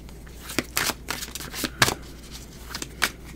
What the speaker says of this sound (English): Let me just put out the rest of the cards.